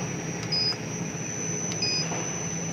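A Bakersfriend oven alarm gives two short, bright electronic beeps about a second apart, steady and moderately loud against a low background hum.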